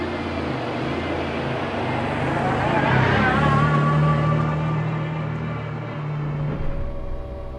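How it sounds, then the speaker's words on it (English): A McLaren F1 supercar engine roars steadily from inside the cabin, building revs under acceleration with a smooth shift into second gear midway, loud and continuous throughout. "Easy as that going into second gear. You just drive it like a manual gearbox."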